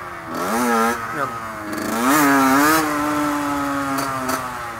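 A motorcycle engine revs up and down repeatedly in first gear during wheelie practice, a loud, close, rising and falling drone that ends in a sustained rev.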